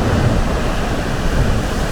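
Ocean surf churns at the Spouting Horn by Cook's Chasm on the Oregon Coast, where waves surge into an undercut rock cave, heard as a steady, loud roar mixed with buffeting wind noise and no voices.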